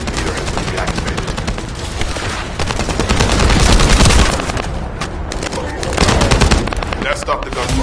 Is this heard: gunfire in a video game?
yes